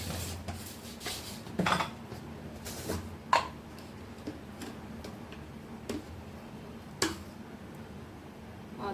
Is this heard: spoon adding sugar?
yes